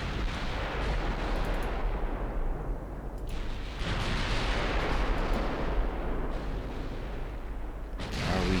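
Naval guns fire in a continuous rumbling barrage in Ultimate Admiral: Dreadnoughts, deep booms rolling into one another under steady heavy roar, with a few distinct blasts standing out.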